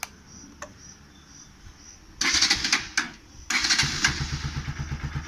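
A Bajaj Pulsar NS 200 motorcycle cranks with a loud burst, drops off briefly, then fires and settles into a steady close idle, with crickets chirping faintly in the background before it starts.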